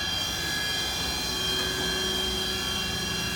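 A Mighty Viper VMC2100 vertical machining center spindle runs steadily at 3,000 RPM, giving a continuous loud hum with high whining tones that hold even and unbroken throughout.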